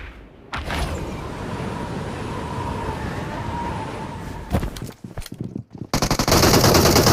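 Automatic gunfire rattles in a video game firefight, heard as a long loud sustained burst followed by a few separated shots and then another dense, heavy volley.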